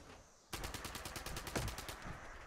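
Rapid automatic gunfire in a battle royale video game match: a sustained burst of evenly spaced shots erupts after a short lull and continues for about two seconds, loud and close.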